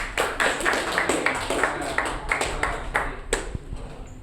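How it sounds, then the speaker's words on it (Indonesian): A classroom group claps together for a presenting team, with the rapid, fairly even claps carrying on for about four seconds along with some room noise. "tepuk tangan untuk kelompok 2"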